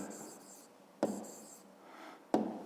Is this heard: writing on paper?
yes